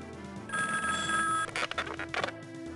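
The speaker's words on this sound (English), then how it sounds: "Oh boy, I got a phone call." A telephone bell rings in a burst of steady electronic trilling, then breaks into a few shorter uneven rings, close and fairly loud over a soft background.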